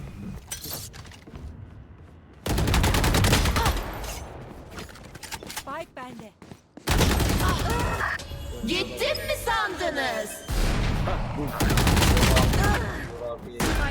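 Rapid bursts of gunfire in the tactical shooter Valorant, loud and close, coming in several dense volleys separated by short lulls, with a player talking over parts of it.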